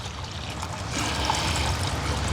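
Warm water pours into a pot to about two inches deep for a brisket stew, a steady trickling splash that grows a little fuller partway through and runs on continuously.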